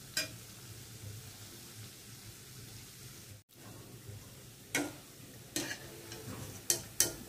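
Palm fruit pieces frying in a pan, a faint steady sizzle broken by a short silence, then several louder scraping stir strokes and clatters toward the end, no talk.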